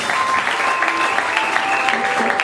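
An audience at a civil wedding in Congo-Brazzaville applauds for a pastor, a dense, steady wash of clapping that fills the whole stretch at close range.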